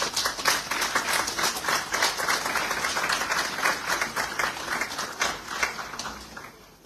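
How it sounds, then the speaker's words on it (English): Audience at a book launch giving a round of applause, many hands clapping in a lively, sustained patter that slowly tapers off toward the end. "help me compliment this man by giving him a round of applause"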